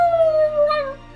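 A wolfdog lets out a single loud, close howl that starts high and slowly slides downward, holding for about a second before it breaks off, with no voices over it.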